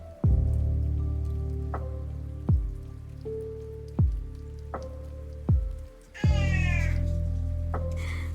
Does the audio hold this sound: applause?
no